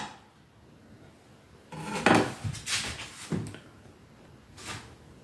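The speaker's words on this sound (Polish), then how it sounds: "pokrojone kiwi wrzucamy do pozostałych składników" Chopped kiwi pieces are dropped into a container of other shake ingredients, producing a few clattering, knocking impacts against dishware after a quiet start, close and fairly loud, with no speech.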